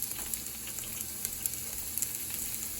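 Chopped onion frying in oil in a pot, a steady close sizzle with faint crackles and a few small pops, no voices.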